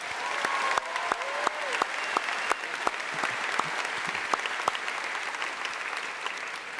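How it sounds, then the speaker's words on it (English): A graduation audience applauds a retiring teacher, Mr. Alton, at a 2015 ceremony: a steady wash of many hands clapping throughout, with sharper individual claps standing out and a few faint voices beneath. "So one round of applause for just Mr."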